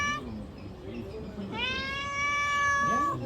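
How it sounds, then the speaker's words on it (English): A friendly cat meows twice close by at an outdoor eatery in India, one short call followed by a longer drawn-out meow, with a person speaking softly around it. "Little kitty came up to me"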